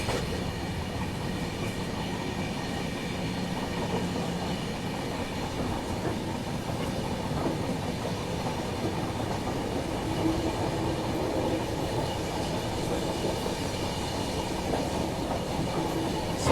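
A train rolls steadily along the track on a curve through hilly country near the Saraighat bridge, a continuous close rumble with faint clickety-clack from the wheels and no talking.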